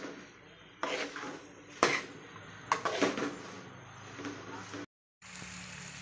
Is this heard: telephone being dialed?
no